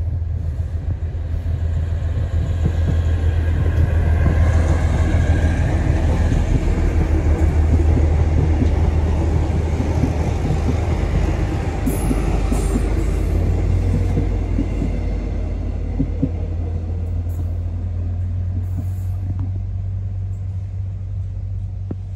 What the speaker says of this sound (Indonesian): Ternyata kereta api bandara ya teman-teman.